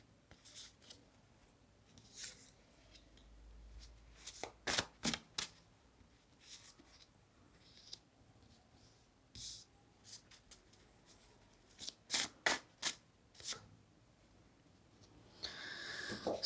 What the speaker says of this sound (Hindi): मैं थोड़े और कार्ड ले लूँगी